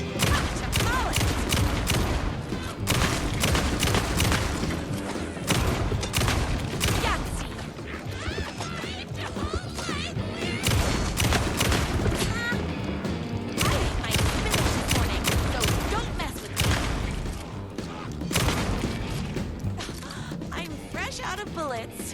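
Rapid gunfire and shotgun blasts in Alan Wake 2, loud dense bursts of sharp cracks in quick succession, with crashes and impacts mixed in over ongoing combat.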